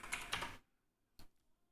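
Quick keystrokes on a computer keyboard rattle in a short burst, then a pause, then one more brief tap, close and fairly quiet in an otherwise still room.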